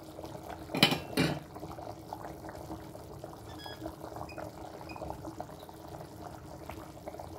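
Noodle soup with chickpeas simmering in a pot, a quiet steady bubbling under a soft hiss, with a couple of louder splashes early as the chickpeas drop in.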